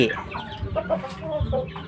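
Chicken clucking nearby in a short series of throaty, irregular clucks that stand out clearly over a faint background.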